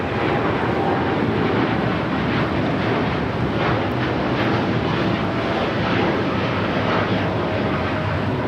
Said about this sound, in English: That is Japan Airlines Flight 69 taking off to Osaka on the 787-9 Dreamliner.